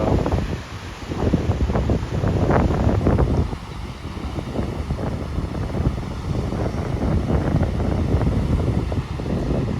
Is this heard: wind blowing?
yes